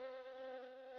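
Honeybees in an animated cartoon give a steady, thin, high buzzing drone that holds evenly for about a second with no speech.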